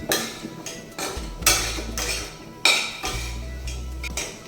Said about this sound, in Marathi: इथे आपल्याला मॅशरनी मॅश करून घ्यायची भाजी